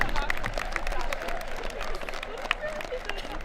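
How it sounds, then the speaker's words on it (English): Audience at a 2022 career and technical center commencement ceremony claps in steady, sustained applause with crowd murmur, filling a large hall. "Another round of applause for machine tool technology."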